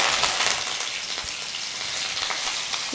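Curry leaves hit hot oil with mustard seeds and green chillies, giving a steady, close, loud sizzle and crackle with small popping bursts throughout and no talking.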